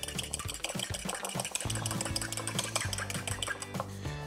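Two whole eggs are whisked into blondie batter with steady, rhythmic beats of a whisk against the bowl, close and continuous with clinking strokes throughout.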